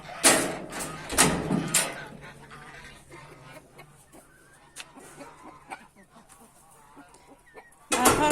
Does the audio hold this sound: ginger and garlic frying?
no